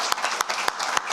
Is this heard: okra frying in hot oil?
no